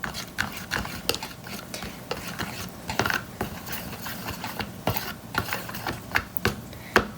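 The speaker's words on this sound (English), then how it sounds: "you can use your fork to mix." A fork stirs glue and activator for clear, color-changing slime, giving a steady run of sharp clicks and wet scrapes at close range, with no voices.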